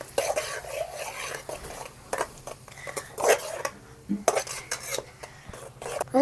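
Brinjal and tomato curry with green chillies stirred in a pan, village style: a spoon scrapes and clinks against metal in irregular bursts, close and fairly crisp, with a cough in between.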